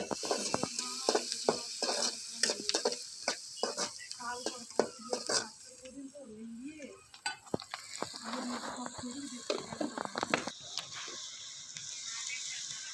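Aloo fry potato curry stirred in a pan for a Telugu dish, with repeated scraping and clinking strokes of a spoon against the pan over a steady sizzle of frying, close and moderately loud throughout.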